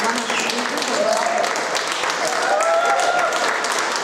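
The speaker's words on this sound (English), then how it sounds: "Let's give him a huge applause for today's work as moderator and one of the speakers as well." Audience applause in a hall at an international log building conference, honoring the moderator; steady, dense clapping holds for about four seconds at fairly loud level, with some voices mixed in.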